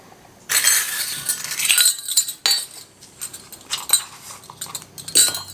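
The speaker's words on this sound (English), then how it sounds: "We are ready to get our pickles ladled up" Pickles and brine ladled into glass canning jars, with bright clinks and clatters of a metal ladle against glass, splashes of liquid in irregular bursts, close up and without talk.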